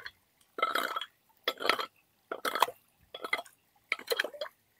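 A frog in muddy water being dug out at a forest camping spot gives five separate croaks, each a short gurgling burst roughly a second apart with near silence between, close and fairly loud.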